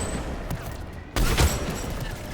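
A Black Widow sniper rifle fires in Mass Effect 3, one sharp loud report that jumps out of steady background game noise, followed by a brief ringing tail.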